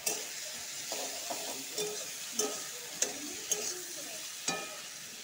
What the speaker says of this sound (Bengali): পেঁয়াজ কুচির সাথে ভালো করে ভাজতে হবে।